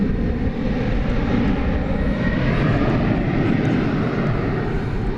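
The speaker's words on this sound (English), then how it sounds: "we have American Airlines flight number 2628, 737-800." An American Airlines Boeing 737-800 taking off at Dallas/Fort Worth airport at night makes a loud, steady jet engine roar with deep rumble, sustained throughout with no talk over it.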